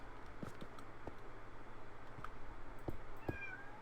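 A cat in the Minecraft video game meows several times in short, spaced calls over a low steady background hum, with no voices.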